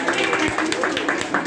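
Audience clapping for a pastor during a ceremony, a dense, steady patter of hands that carries on alongside a voice speaking over it.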